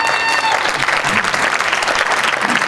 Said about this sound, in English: I want to give a big round of applause for Nolan.